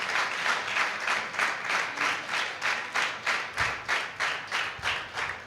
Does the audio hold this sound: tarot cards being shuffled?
no